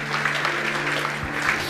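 A congregation at a church worship service claps in a dense, even round of applause that carries through the whole short stretch, fairly loud and close.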